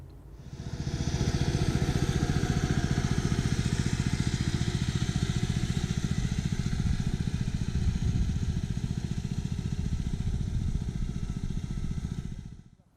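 An Allett Westminster 20H 12-bladed cylinder lawn mower runs steadily for the whole stretch, a loud, even engine drone with a fine clattering texture and no talk over it.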